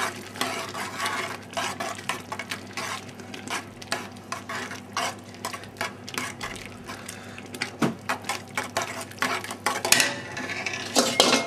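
A spoon scrapes and clinks against a pan while fresh tomato pasta sauce is stirred after salt and pepper go in, giving quiet, irregular close-up taps and scrapes over a soft simmering hiss.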